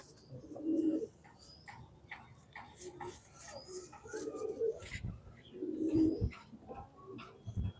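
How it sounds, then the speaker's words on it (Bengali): Pigeons at a pigeon sale, including a red Dhuma male and fitted females, give several low rounded coos in bursts, with people talking nearby throughout. "এটা কি পায়রা আছে?"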